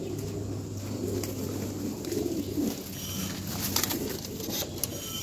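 Pigeons coo softly and repeatedly inside a loft, with low rounded calls layered over a steady background hum and a few faint clicks.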